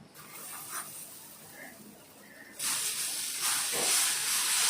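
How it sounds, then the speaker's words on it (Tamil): Dosa batter hitting a hot Indalium tawa, a sudden loud broadband sizzle that starts midway after a quiet stretch and holds steady to the end, close and strong. "நம்ம ரெண்டாவது தோசை ஊற்றலாம்"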